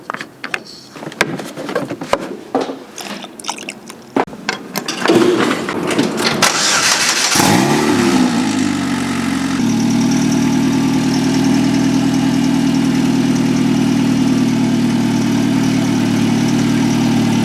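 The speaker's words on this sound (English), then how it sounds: "Okay, I'm gonna let that warm up for a minute." A DF Goblin kit car engine cranks after some nearby handling and clicks, catches with a loud roar, then settles into a steady, close idle that carries on to the end.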